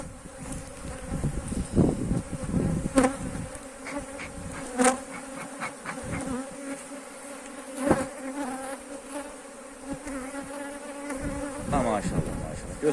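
Honey bees buzz steadily and close throughout a beehive transfer, a dense droning swarm with occasional sharper passes of individual bees and faint handling knocks, with no talk.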